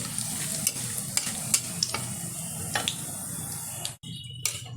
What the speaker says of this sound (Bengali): তেলের মধ্যে দিয়ে দিচ্ছি একটা শুকনো লঙ্কা, দুটো তেজপাতা, কিছুটা গোটা জিরে ফোড়ন।